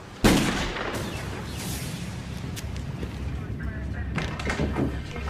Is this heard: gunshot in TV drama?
yes